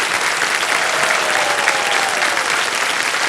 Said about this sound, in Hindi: एक बार फिर जोरदार तालियां बज जाएं।